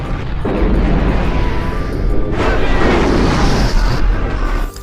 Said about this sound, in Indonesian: Ia juga meletakkan bom di setiap bangunan untuk ledakan mereka semua sekaligus.